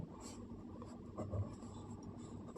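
A pen writes on paper during a class 10 trigonometry lesson, giving quiet close scratching strokes with one slightly louder stroke midway; no talk.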